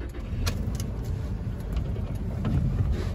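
A 2019 Toyota Hilux Workmate 2WD engine cranks and settles into a low, steady idle, rumbling up close inside the cab with a few faint clicks and knocks over it.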